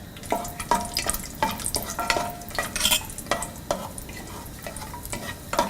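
Cashews are stirred in hot ghee in a pan, with a soft sizzle under repeated scraping, clinking stirs at an irregular rhythm and no talk.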